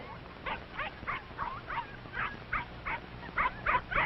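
Mother Mack's puppies yip and whimper in a string of short, high, evenly spaced cries, fairly close, with small pauses between the yelps.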